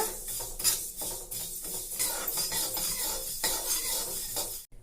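Fenugreek seeds dry-roast in a pan, a rough rattling scrape as a spoon stirs them repeatedly. The stirring comes in uneven bursts at close range, over a light hiss, then cuts off abruptly at the end.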